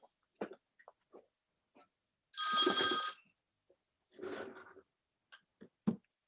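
A mobile phone rings in a quiet room with two short electronic ringtone bursts, the first louder and the second softer, separated by silence and scattered small knocks.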